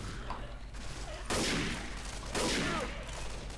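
Two bursts of rapid gunfire in the zombie shooter Left 4 Dead 2, each about a second long, loud over a steady game background.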